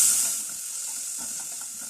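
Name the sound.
finely chopped onion sautéing in oil in a pot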